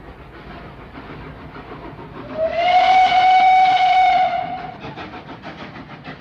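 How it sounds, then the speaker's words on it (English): A lonesome steam train whistle sounds at the Gare de Lyon station in Paris on a rainy night in 1912, signalling departure; one sustained, loud, steady tone swells in over rail rumble, holds about two seconds, then fades. "a lonesome whistle sounds."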